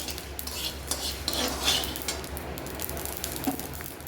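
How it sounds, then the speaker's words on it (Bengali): Spices dry-roasting in a pan for mango pickle, stirred with a metal utensil that clinks and scrapes against the pan over a faint background hiss. "আর দেখো হালকা করে এইভাবেই আমি মশলাগুলো ভেজে নিচ্ছি।"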